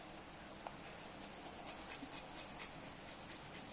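Raw turmeric pieces being grated, a faint, steady rasping scrape repeating in quick strokes, quiet and alone.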